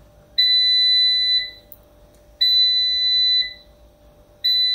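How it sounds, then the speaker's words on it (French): Action smartfryer air fryer signalling the end of cooking: three loud, clear electronic beeps, each a sustained tone of about a second, evenly spaced with short gaps and nothing else heard. "Donc normalement la machine devrait de nouveau sonner."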